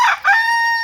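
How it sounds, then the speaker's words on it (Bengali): A native rooster at a poultry farm gives a single loud, close crow, a brief strained call that rises and then holds a sustained tone. No one speaks. "দেশি মোরগ,"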